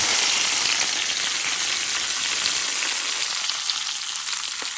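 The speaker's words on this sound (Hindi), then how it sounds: "अब इसमें हम ये देखें बघार जब डाल देंगे" Hot tempering poured over pakora kadhi in a pot, giving a loud, steady sizzle and crackle that fills the whole stretch and fades only slightly toward the end, with no talking.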